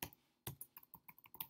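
Rapid keystrokes on a computer keyboard while writing jQuery code, a burst of clicks, then a brief pause and a steady run of distinct, close taps.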